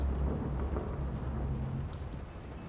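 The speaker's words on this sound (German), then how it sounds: "Könnte dieses Gewitter bitte mal aufhören, so laut zu sein?" Thunderstorm in the horror game Layers of Fear Remake: a loud, deep, continuous rolling rumble of thunder that slowly fades, with a faint patter of rain and no talk.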